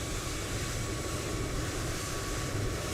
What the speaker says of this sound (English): Say hello to the noisy A320.